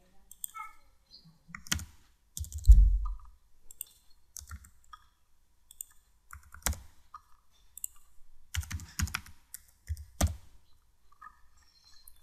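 Keys clack on a computer keyboard while an address is typed in, coming in short clustered bursts split by pauses, with a voice talking faintly at times.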